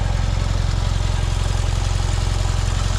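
A warmed-up Fiat 126 engine idles on its own, with no choke, in a loud, steady, evenly pulsing putter that holds an unchanging rhythm throughout, close up.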